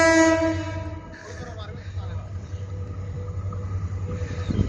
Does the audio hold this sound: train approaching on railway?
yes